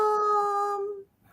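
A dog howls once, a clear, sustained tonal wail held steady for about a second, then fading out to quiet.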